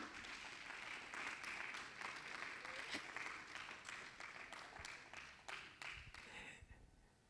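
A congregation at an evangelical church sermon breaks into sustained applause, dense steady clapping from a crowd that continues for around seven seconds before tapering off.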